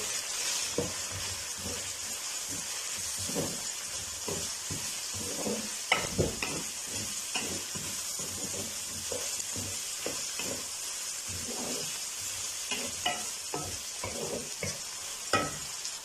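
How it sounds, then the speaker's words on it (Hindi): Julienned carrots stir-fried in a pan for chicken chow mein, giving a steady sizzle and frying hiss with repeated sharp scrapes and clacks of stirring throughout, close and fairly loud, with no talking. "गाजर को 1 मिनट भूनने के बाद"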